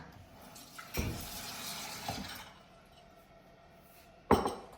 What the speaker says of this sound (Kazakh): Жарайды, су қойайық.